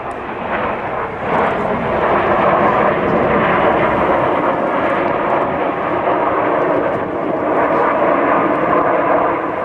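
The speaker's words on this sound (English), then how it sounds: "as the red, white and blue smoke comes on, in Spitfire or Hurricane formation, a salute to the few, this is the victory roll" Red Arrows RAF jets at the Duxford air show fly a victory roll trailing red, white and blue smoke, a loud, steady roar of jet engines held overhead throughout with no voices.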